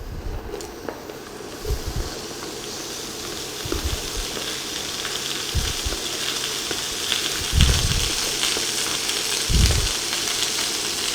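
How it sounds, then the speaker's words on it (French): Onions sizzle in a pan while being cooked down toward caramelizing, a continuous frying hiss with several low thumps and stirring knocks from the pan, no speech. "On va les laisser colorer un petit peu, cuire."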